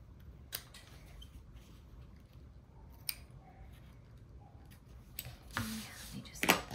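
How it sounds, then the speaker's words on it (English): Scissors snip through fabric for a lined pouch with a woven exterior, a few quiet, brief cuts spaced out and clustering toward the end against a hushed room. "just cut along this bottom bit"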